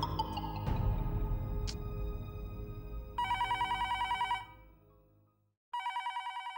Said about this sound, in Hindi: मैं घर पे फोन लगा रहा हूँ, घंटी भी बज रही है